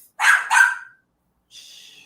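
Two sharp barks from a dog close by, one right after the other, then a brief pause and a softer, higher whine or yip, with silence in between.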